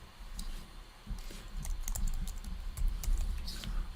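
A password being typed on a computer keyboard: a quick, irregular run of soft key clicks, close by, with no voices.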